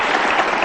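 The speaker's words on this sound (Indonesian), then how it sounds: "tepuk tangan dulu dong buat Mbak Prita Gozi ya." Loud, dense audience clapping at a motivational seminar, a steady close burst lasting under a second.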